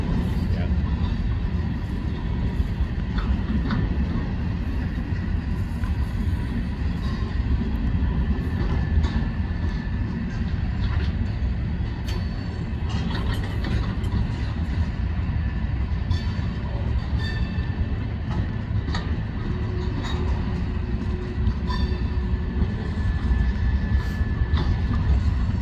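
A long CSX freight train of empty cars rumbles past close by on the Philly Sub, a continuous heavy roll of wheels with rattling and clanking cars throughout; a person speaks briefly over the noise.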